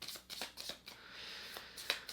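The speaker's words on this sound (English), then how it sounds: "I'm really trying to shuffle these cards" Tarot cards being shuffled by hand, a riffling, papery flutter in quick bursts, close and fairly quiet, with no one speaking.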